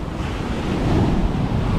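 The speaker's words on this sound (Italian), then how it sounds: "Le onde sono paurose." Rough, dangerous ocean waves break on a white-sand beach in Bali, a loud, steady roar of surf rising slightly toward the end, mixed with wind buffeting the microphone.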